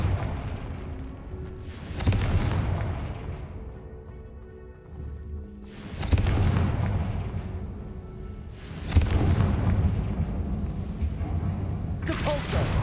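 Confringo blasting spells from Hogwarts Legacy go off in several loud booming explosions, roughly three heavy blasts with whooshing tails and rumbling decay between them, close and forceful.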